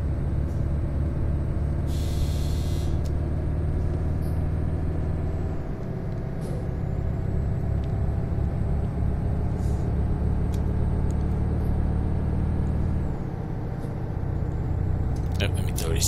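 A heavy Volvo truck climbs a grade held in one gear, its engine a loud, steady low drone that dips briefly midway, with a few faint clicks and rattles in the cab.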